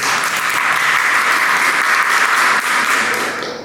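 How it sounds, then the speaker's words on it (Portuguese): A panel event audience applauds loudly and continuously, with dense, sustained clapping close by that fades slightly at the very end. "palmas pessoal"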